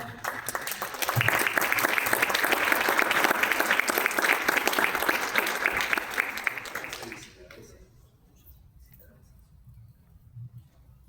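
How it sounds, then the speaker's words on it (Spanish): Audience applause at an award ceremony rings out loud and steady for about seven seconds, then fades out. "Fuerte el aplauso."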